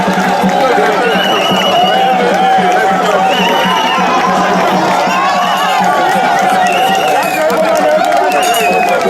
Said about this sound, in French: Merci d'applaudir ce moment.